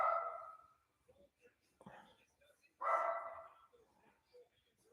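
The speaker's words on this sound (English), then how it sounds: "Why is my dog barking?" A dog barking indoors, two loud separate barks a couple of seconds apart, with quiet murmured speech in between.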